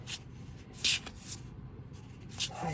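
A tarot card deck riffled and shuffled by hand up close, short papery bursts and rustles repeating in quick succession.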